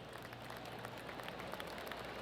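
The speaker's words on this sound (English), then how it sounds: "They're clapping. I don't know why." Gallery crowd applauding in the golf video game PGA Tour 2K25, a steady wash of distant clapping running throughout against a constant ambient bed, with no speech.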